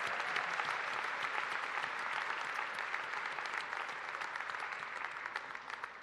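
Sustained applause from a commencement crowd honoring mothers at a University of Maine ceremony, broad and even, filling the hall and slowly easing toward the end.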